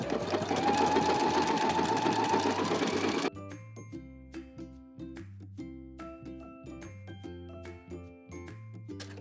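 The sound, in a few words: sewing machine stitching fabric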